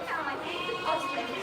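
A Boer goat bleats during labour on a farm, a wavering nasal cry that fills most of the short stretch at a steady middle loudness, with a faint voice mixed in.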